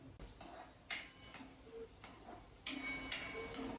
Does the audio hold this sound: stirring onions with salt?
yes